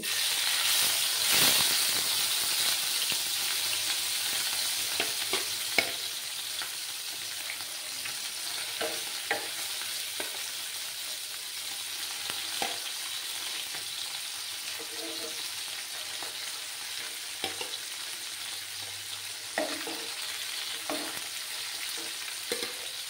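Chapila fish sizzle and spit in a hot pan over lowered gas heat, a steady bright frying hiss throughout with scattered crackles and occasional stirring knocks, close and fairly loud.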